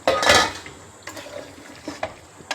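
Raw chicken goes into a pan of fried onions, with a loud metallic clatter and scrape at the start and then a few lighter clinks and stirring scrapes, close and alone.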